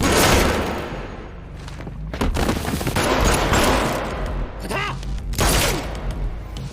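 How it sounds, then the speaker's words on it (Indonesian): Action film gunfire erupts in loud, dense bursts of rapid shots and heavy thuds, continuing throughout with echoing booms and mechanical clatter. "Hardy kemudian menembaki siapapun yang tidak memihak kepadanya, menciptakan kekacauan total di dalam rumah gedong itu"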